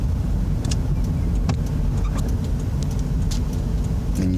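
A first-time learner drives a car on the road. Steady engine and road noise fill the cabin throughout, with a few faint ticking clicks over it and no talking.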